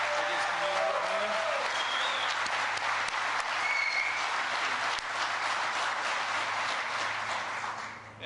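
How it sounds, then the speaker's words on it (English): Steady applause from a large outdoor crowd at a plant groundbreaking, honoring the mayor, sustained and fairly loud for about eight seconds before tapering at the end. "How about a round of applause for the mayor?"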